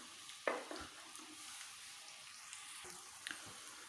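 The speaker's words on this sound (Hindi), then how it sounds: "इसमें हम प्याज को शामिल करते हैं। प्याज को हम फ्राई कर लेते हैं पहले।" Onions frying in hot oil in a pan, a quiet steady sizzle broken by a few stirring clicks and scrapes, faint and close.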